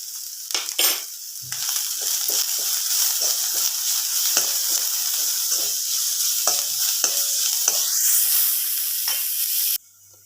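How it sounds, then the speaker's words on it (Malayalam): Onions sautéing with salt in a pan sizzle steadily while a spatula stirs and scrapes in irregular strokes, close and continuous until an abrupt stop. "സവാളയൊക്കെ പെട്ടെന്നൊന്ന് വഴണ്ട് വരാൻ വേണ്ടിയിട്ട് നമുക്ക് കുറച്ച് ഉപ്പ് ചേർത്ത് കൊടുക്കാം"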